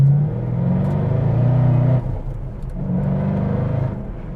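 A 2021 Shelby GT500 with a supercharged engine pulls hard under acceleration, its loud, close engine roar climbing through a gear, dipping briefly at a shift near the midpoint, then building again.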